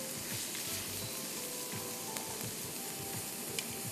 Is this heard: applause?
no